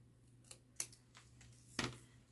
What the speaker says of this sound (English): Just grab my scissors.